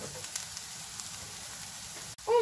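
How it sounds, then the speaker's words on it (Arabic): Onion sizzling in a pan for kefta burger, a soft continuous frying hiss with faint crackles, heard alone and fairly quiet throughout. "دابا تشحرات ليا هاد البصيله"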